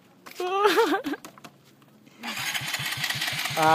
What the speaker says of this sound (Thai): รถไม่ติดนะครับ รถไม่ติดแล้วครับพี่น้องครับ น้ำมันลงครับ สตาร์ทไม่ติดแล้วมั้ง